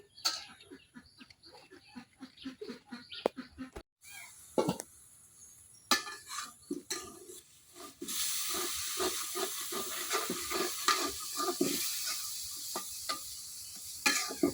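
Dried fish (shutki) being stir-fried in a pan in a village kitchen: close hiss and sizzle with scraping stirs, intermittent at first, then a steady frying hiss for the second half.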